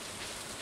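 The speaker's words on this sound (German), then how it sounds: "Heute regnet es." Rain falls steadily in the farming game Stardew Valley, an even, dense hiss of rainfall with no other sounds over a brief moment.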